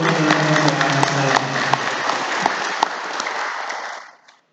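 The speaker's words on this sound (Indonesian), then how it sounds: "Kita beri aplaus untuk saya." Audience clapping at a village head election campaign event, a dense, steady burst of applause with a few sharp individual claps, fading out toward the end.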